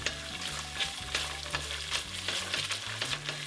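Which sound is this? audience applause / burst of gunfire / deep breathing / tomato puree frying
tomato puree frying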